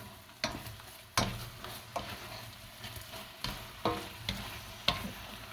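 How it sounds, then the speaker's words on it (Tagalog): Pork tocino and longganisa fry without oil in a pan, sizzling steadily while a utensil scrapes and stirs in regular strokes about once a second, close and clear with no talking. "Napiprito na siya."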